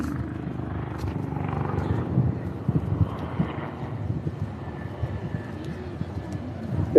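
Royal Navy Black Cat helicopter in a solo flying display at a coastal air festival, a low rotor and engine drone heard from a distance under an announcer and crowd chatter.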